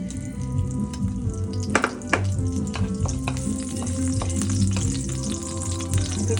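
Whole spices such as a cinnamon stick and curry leaves sizzle and crackle steadily in hot oil for a spicy prawn devil, a loud continuous fry with occasional sharp pops and stirring scrapes, close up with no talk.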